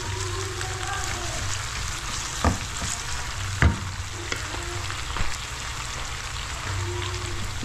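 String beans sauté in a hot pan with a steady, close sizzle and a few sharp clanks of a utensil against the metal, while faint voices murmur in the background.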